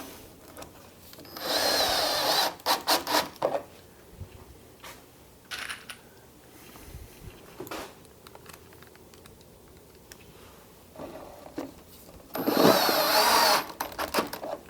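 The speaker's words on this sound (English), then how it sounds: "Also, don't use 18-volt drills when you do this. Use 12-volt drills." A 12-volt power drill drives pocket-hole screws into a glued wooden armoire frame in a workshop: several short whirring bursts separated by pauses, fairly close and loud.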